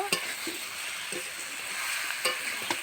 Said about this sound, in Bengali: এই ভেজে রাখা মাছগুলো এর মধ্যে আমি দিয়ে দেব হালকা করে আমি নেড়ে নেব